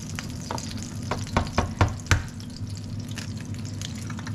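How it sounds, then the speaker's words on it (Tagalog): An egg fries in a pan still greasy from cooking hamburger, a steady close sizzle broken by several sharp pops and spits that cluster in the middle, with no talking. "Ayan, magluto tayo ng itlog."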